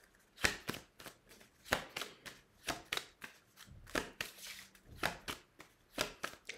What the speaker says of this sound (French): je vais prendre trois cartes.